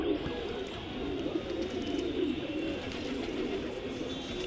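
Kali Chandni pigeons coo softly and repeatedly in a loft in the morning, low throaty murmurs blending over a steady background hum.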